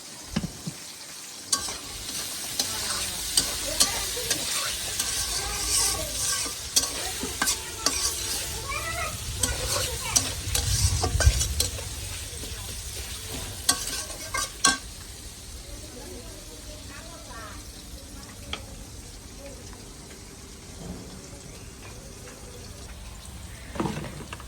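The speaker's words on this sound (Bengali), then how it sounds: "রসুন দিয়ে বাগার দিলাম" Garlic is tempered in hot oil and sizzles and hisses steadily with occasional stirring and clinks. The frying fades toward the end, and a cat meows now and then in the background.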